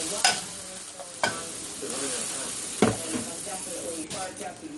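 Shrimp cooking in olive oil, a steady sizzle with a spoon scraping and clacking against the pan a few times, close and fairly loud, with a voice speaking now and then.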